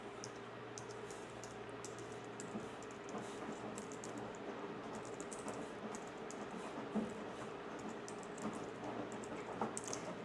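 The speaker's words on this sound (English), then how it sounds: "So now you're just going to type in your personal information." Soft, scattered keyboard taps come through faintly over a low background hum while personal details are entered on a computer.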